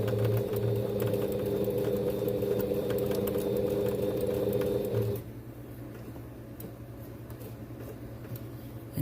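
A sewing machine stitches a clear vinyl window into a fabric face mask, a close, steady mechanical whir for about five seconds that then stops, leaving quieter handling noise.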